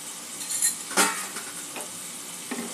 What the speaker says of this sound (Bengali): এখন মশলা থেকে তেল ছাড়া পর্যন্ত একটু অপেক্ষা করব।